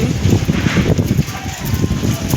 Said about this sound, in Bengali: রাস্তায় আর কত হাওয়া পড়ছে আওয়াজও করছে